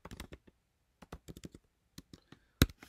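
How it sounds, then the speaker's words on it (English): Keys on a computer keyboard are typed in short, uneven bursts of close, crisp clicks with brief pauses, ending in one sharper, louder keystroke. "I'm going to type something in French here."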